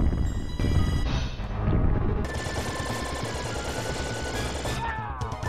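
Rapid synthetic gunfire bursts from the retro video game Probotector, repeated electronic shots layered over game music and effects, steady and fairly loud.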